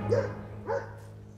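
A dog gives two short, fairly close barks about half a second apart, the second a little softer, over a low background hum.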